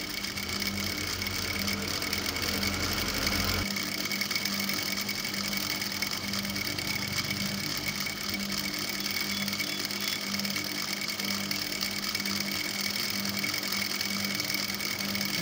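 A sewing machine runs steadily through a seam on a palazzo-style skirt, a continuous close whir with a low motor hum that drops slightly a few seconds in, no talking.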